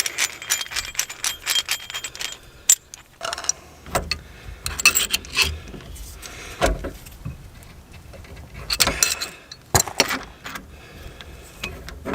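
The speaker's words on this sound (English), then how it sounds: "now we're going to use our caliper wind back tool" A caliper wind back tool works on a brake caliper piston of an Audi TT, giving irregular metallic ratcheting clicks and clinks in quick bursts with short pauses, close and fairly loud.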